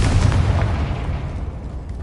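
Confringo blasting curse going off in Hogwarts Legacy: a dense, rumbling explosion, loud from the start and rolling on without a break for about two seconds before thinning out slightly at the end.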